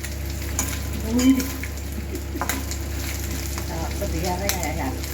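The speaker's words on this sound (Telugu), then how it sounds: "మెత్తలు బాగా ఫ్రై అయినాయండి అలా కలర్ చేంజ్ అవ్వాలి" Dry fish (methallu) frying in a pan and being stirred for a Telugu dry fish curry, giving a steady low sizzle with occasional scraping stirs, a faint voice briefly audible over it.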